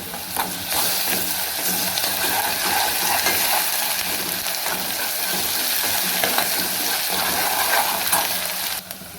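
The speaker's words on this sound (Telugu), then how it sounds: "అల్లం వెల్లుల్లి పేస్ట్ కొంచెం పచ్చివాసన అయ్యే వరకు ఇదైతే వేగించేద్దాము ఇలా వేయించుదాము" Ginger garlic paste with onions frying in hot oil for egg biryani crackles in a constant, busy sizzle, broken now and then by clinks and scrapes of a stirring spoon close by.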